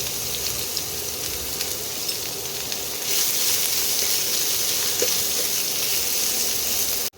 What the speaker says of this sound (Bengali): পেঁয়াজ কুচিটাকে একটু ভাজতে হবে